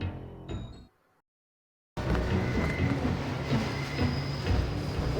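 A subway train in the Deus Ex video game rumbles and clatters steadily after a brief silence, with loud continuous rail noise and faint wheel squeal.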